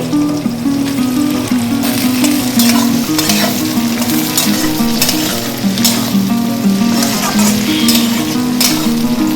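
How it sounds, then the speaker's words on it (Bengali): Steady loud sizzling of chopped onions and chillies frying in hot oil, with scraping and stirring sounds throughout and no voices. "লঙ্কা ভাজা হয়ে গেছে, দিয়ে দিলাম পেঁয়াজ কুচি।"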